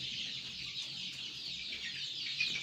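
Chickens cluck and chatter inside a poultry shed, a faint, dense, continuous layer of bird noise with no single call standing out and no talking.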